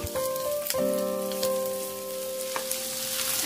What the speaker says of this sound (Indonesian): Aduk-aduk, tumis kembali sampai cabai dan tomat matang.